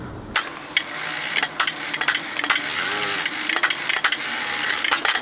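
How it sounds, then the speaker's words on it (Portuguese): A sewing machine runs in quick close bursts while stitching a seam on a fabric pouch. The steady motor whir is broken by sharp clicks and knocks as the fabric is handled between runs. "Vamos passar uma costurinha aqui só para evitar fadiga"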